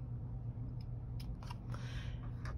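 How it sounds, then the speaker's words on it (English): Scissors cutting straight through paper for a strawberry-themed paper craft flip-out with pockets: several crisp, close snips and rustling slices in quick succession over a steady low room hum. "I'm just gonna try to cut straight up here."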